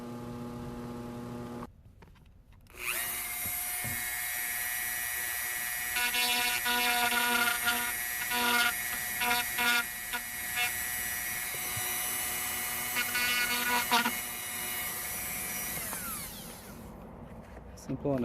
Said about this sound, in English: drill bit so that we could just shave off a little notch for the USB cable and the telephone cable to go through without cutting too much plastic